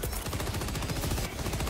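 Rapid machine gun fire in a co-op action video game, a dense continuous burst of fast rhythmic shots, loud and close for under two seconds.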